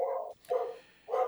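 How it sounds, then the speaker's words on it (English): A dog at home barks three times in an even rhythm, each bark fairly full and moderately close, with short quiet gaps between them. "so that's my dog barking."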